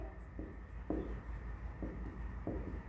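Chalk or marker writing a term on a board during a chemistry lecture on alcohols, a few soft rubbing strokes over low room hum, with no talk.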